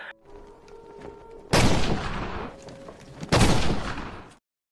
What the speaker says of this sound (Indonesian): apalagi ketika Chen memberikan beberapa tembakan penghormatan atas keberanian Shikai yang berusaha menyelamatkan mereka.